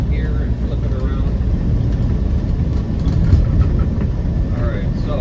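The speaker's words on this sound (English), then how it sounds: "Fourth gear, 50. Alright, so we'll slow her down a bit." A 1997 Land Rover Defender 90 with a 300Tdi diesel cruises in fourth gear, a loud low engine drone mixed with road and wind rumble that stays steady throughout.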